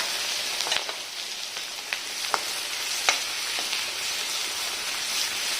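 Finely chopped onions fry in a pan with a soft, even sizzle, broken by a few sharp utensil clicks and taps, heard close and fairly quiet.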